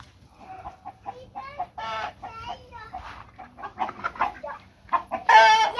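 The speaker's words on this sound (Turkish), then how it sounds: "Şimdi tavukları içeri alma zamanı." Several chickens cluck and squawk nearby at a village house in the evening, a lively, uneven chorus, with one louder, harsher call near the end.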